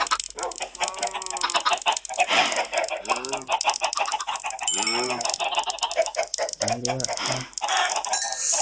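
Chickens in Minecraft Pocket Edition 0.14.0 cluck again and again in short bursts over a steady game background, with a voice talking over the clucks.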